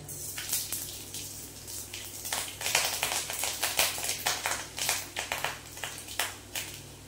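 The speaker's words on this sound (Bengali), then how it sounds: "এইবারে ফোড়নে দেব সর্ষে, গোটা সর্ষে, গোটা ধনে আর গোটা জিরে ফোড়ন দেব।" Whole mustard, coriander and cumin seeds crackle and pop in hot oil in a kadai, a dense run of quick sharp spits and taps over a low steady hiss, with no talking.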